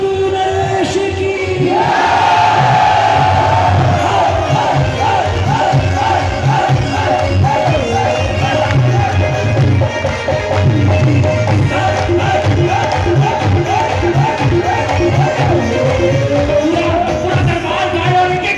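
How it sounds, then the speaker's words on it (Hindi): A large crowd at a Khatu Shyam festival at Shyam Mandir, Hansi, roars praise in unison, a loud, sustained mass of voices with rising chant-like swells lasting throughout, close and enveloping. "एक ऐसी जयकार कि पता पड़े उसके दरबारी ने जयकार लगाई है।"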